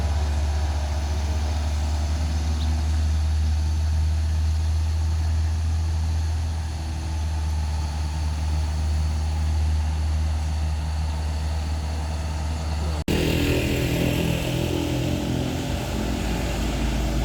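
An overloaded Mitsubishi L300 pickup strains up a steep hill, its engine droning in a steady low, loud labouring hum that continues without a break before shifting abruptly to a rougher, brighter roar near the end.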